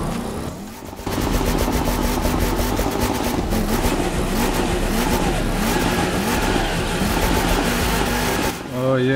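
A Dodge Hellcat street racing in The Crew 2 with a full build, its engine roaring loud and steady at high revs for several seconds after a brief lull, dropping off near the end, with a voice talking over it.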